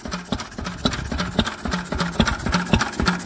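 A Lister B stationary engine idles on an engine stand, its regular low thumping firing beat chugging steadily and close by.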